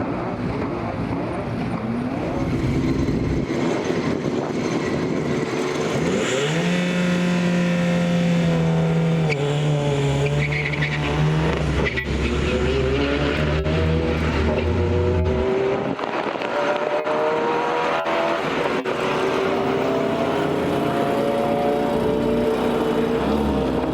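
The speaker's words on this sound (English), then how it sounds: "That's the first time I've launched that car in anger myself." A front-wheel-drive TDI diesel Skoda Citigo launches hard on the Santa Pod drag strip, its engine roaring loudly and rising through gears with sustained revving and shifts, then fading into steady distant engine drone.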